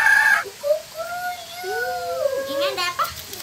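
A voice imitates a rooster's crow as "kukuruyuk" with long, wavering, sing-song glides, preceded by a short bit of Indonesian talk.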